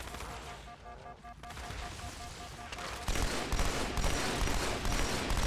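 Rapid gunfire rattles in a video game as the player is shot and pushed back, a dense, continuous burst of shots and impacts that grows louder partway through, with no clear pauses.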